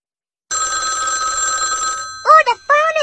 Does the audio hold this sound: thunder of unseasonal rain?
no